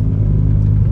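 A Toyota MR2 second-generation (W20) sports car engine idles at low revs, a smooth, steady rumble with a deep exhaust note, close by and unbroken.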